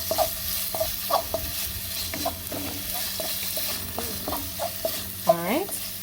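Cauliflower sautéing in black bean sauce in a pan, a steady low sizzle broken by regular scrapes and knocks of a spoon stirring, with a sharper clatter near the end, no voices.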